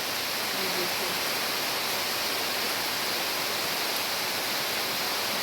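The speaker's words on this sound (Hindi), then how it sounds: "और आवाज़ भी आपको आ रही होगी कि कितनी तेज़ आवाज़ आ रही है बारिश की" Heavy monsoon rain pours down with water streaming across a road, making a dense, constant roaring hiss that stays loud and unbroken throughout.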